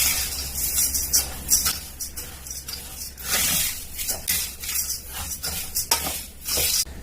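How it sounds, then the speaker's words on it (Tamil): Roasted red rice, lentils and crushed peanuts being stirred together in a pan, giving a steady dry scraping and rustling with repeated bursts of grainy shuffling, fairly close and with no talk over it. "சேர்த்துட்டு எல்லாத்தையும் ஈவனா மிக்ஸ் பண்ணி விட்டுக்கலாம்."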